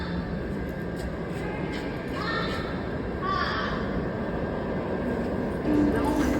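A Washington Metro 7000 series train approaching on the tracks, a steady low rumble that swells gradually with faint tonal whines, while people talk over it.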